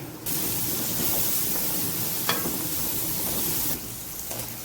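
Ground spices such as cumin, coriander powder and garam masala sizzle in hot oil for keema karela, a steady loud hiss that runs unbroken for several seconds and then drops away.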